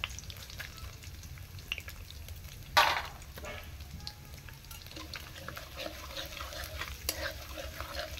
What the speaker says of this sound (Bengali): দেখুন এই তেলের মধ্যে আমি মৌরি দিয়ে দিলাম খানিকটা আর দিলাম গোটা জিরা